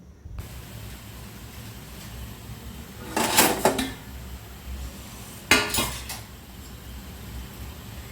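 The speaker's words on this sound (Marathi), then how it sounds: "चमचं उचललं आणि भाजीत घातलं" A pot lid lifted and a spoon dipped into methi bhaji, two distinct clattering metal knocks a couple of seconds apart over a low steady background hiss.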